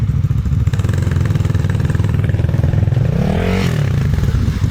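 Enduro motorcycle engine on a forest trail, a loud close continuous drone that rises in pitch as it revs near the end.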